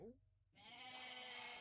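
Goats bleat in a real-time strategy video game match, a strong sustained bleat following a brief earlier call, with a voice talking alongside.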